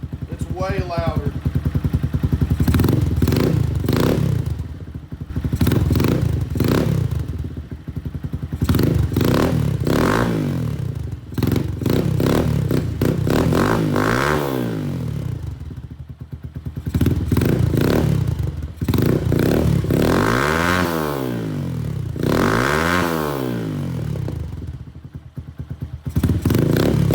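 A Lifan KP Mini 150 motorcycle with an aftermarket exhaust and the baffle removed revs repeatedly, its deep, loud engine note rising and falling in long sweeps with a steady idle rumble between the throttle blips.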